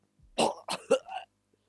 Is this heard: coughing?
yes